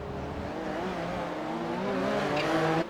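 Race cars taking a first corner flat out under heavy downforce, a loud sustained engine drone with shifting harmonic tones and a brief high squeal near the end, no speech.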